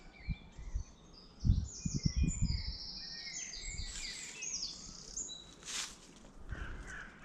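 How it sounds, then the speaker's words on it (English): Several birds sing and chirp in a park, bright overlapping trills and tweets at moderate distance, while footsteps or rustling thud nearby in bursts beneath them. "The songs of the birds"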